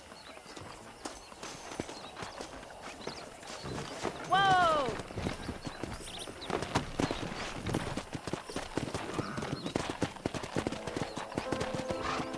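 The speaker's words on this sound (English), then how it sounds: "That ranch hand said there's a pack of wild horses nearby." Wild horses in the Red Dead Redemption video game gallop with steady clip-clop hoofbeats and a loud neigh partway through, under a rider's brief shout and ongoing game sounds.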